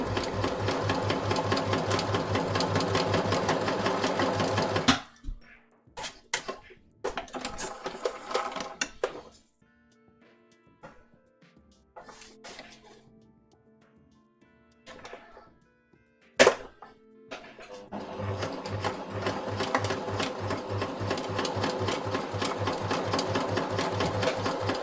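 A sewing machine stitches a waistcoat in two long, steady, loud runs, starting and ending the span. Between them comes a quieter stretch of scattered clicks, handling and one sharp knock.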